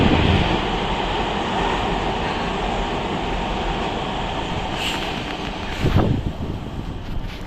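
A metro train rumbles past beneath a tunnel portal in Rotterdam, a loud continuous roar that stays steady for several seconds and swells briefly near the end.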